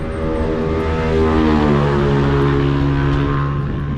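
A loud, steady engine drone with a low harmonic hum holds for the whole stretch as motorcycles pass close by without pause on a provincial road.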